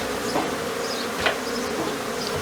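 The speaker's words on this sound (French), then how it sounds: "Beaucoup d'abeilles là-haut" A swarm of Africanized bees nesting up in a roof between the siding buzzes steadily and continuously, close and fairly loud, with no talking.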